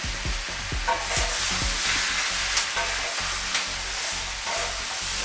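Vegan stir-fry with Thai coconut curry sizzling in a pan while being stirred, a continuous bright frying hiss broken by a series of spatula scrapes and knocks, close and clear with no talk.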